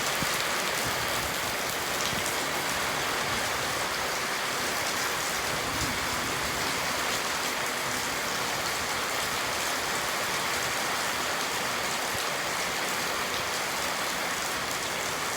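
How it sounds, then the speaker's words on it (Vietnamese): Steady rain of the season's first downpour falls continuously, a dense hiss of drops on surfaces throughout, fairly close and uniform with no voices. "video trực tiếp cơn mưa đầu mùa"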